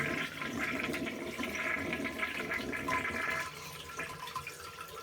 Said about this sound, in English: Gotta flush it to get a clear view of it.